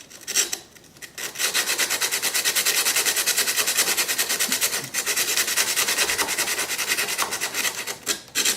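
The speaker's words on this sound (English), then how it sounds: "these filing boards work really nice for stuff like this" Filing boards rasp back and forth across a part for a Skymaster Avanti XXL model aircraft, loud and close, in fast, even strokes that run continuously after a brief pause near the start.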